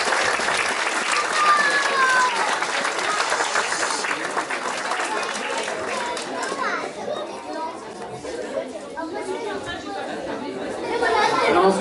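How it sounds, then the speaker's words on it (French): Parents and children at a French school orchestra's inauguration applaud a young musician, with clapping mixed into lively chatter and children's voices that swell, dip and rise again. "Et on l'applaudit."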